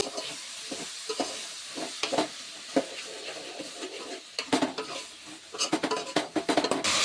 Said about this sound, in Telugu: ఇప్పుడు మొత్తం కలుపుకోవాలి.